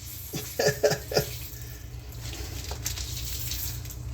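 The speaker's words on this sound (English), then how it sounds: "you just squeeze out the water" A few quick squirts of water burst out close by, followed by a softer, steady trickle and splashing.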